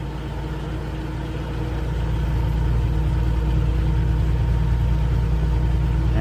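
A Kenworth T680 truck engine bogging after an upshift on a Colorado Rockies climb: a heavy, droning low rumble heard from the cab that grows louder and strains steadily, with no talk.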